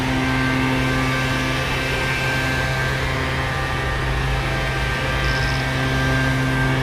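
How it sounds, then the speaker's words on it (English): A blower runs during handheld macro shooting, giving a steady, even hum with a constant tonal whine throughout, with no voices. "See, the blower is back on again."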